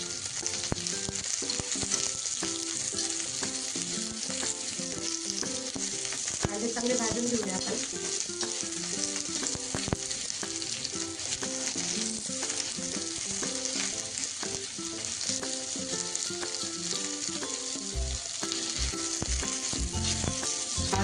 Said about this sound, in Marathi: लालसर फ्राय करून घेऊया गॅसची फ्लेम वाढवलेली आहे